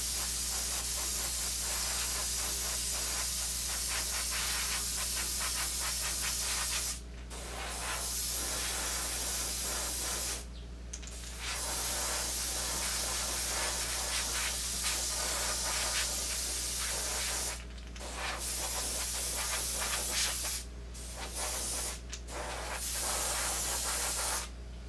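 White base coat paint being sprayed, a steady hissing spray in long bursts broken by several short pauses, over a low constant hum, with no talk.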